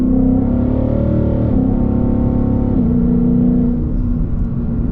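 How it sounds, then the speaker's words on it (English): A Ford Mustang in drag mode accelerates hard. Its loud, close engine note climbs, then drops sharply at two quick upshifts before pulling strongly again, with no voices. "the upshift shakes the entire car"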